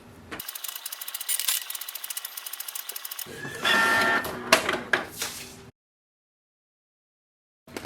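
A Canon Pixma G3260 inkjet printer works through a page. It gives off a fast, regular run of mechanical ratcheting clicks, then a shorter burst of whirring feed and gear noise that stops abruptly, all close by and fairly quiet.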